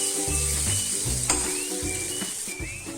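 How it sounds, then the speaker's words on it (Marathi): Tomatoes frying in a pan for a homemade mutton masala, a steady close sizzle with occasional stirring scrapes and clinks, loud and continuous without talk. "ते आता टोमॅटो पण पूर्ण मेल्ट होईपर्यंत भाजून घेणार आहे."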